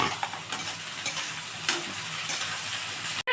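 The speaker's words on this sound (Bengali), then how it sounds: "একটু ভাজা হয়ে গেছে, এবার আমি বেগুনটা দিয়ে দিচ্ছি এর মধ্যে।" Eggplant frying in a pan with onion, garlic, chillies and black cumin, a steady close sizzle with a few stirring scrapes throughout and no talking.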